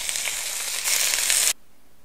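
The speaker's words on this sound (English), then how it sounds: "since this is all smoking hot, stick it in the pan" Ground beef hits a smoking hot pan with a bright, hissing sizzle that grows louder for a moment and then cuts off abruptly, brief and close.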